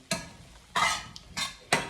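Chicken for tacos cooks in a pan in a prison intake setting, heard as four short, sharp bursts of scraping and sizzling as it is stirred, fairly quiet, with brief pauses between and no talking.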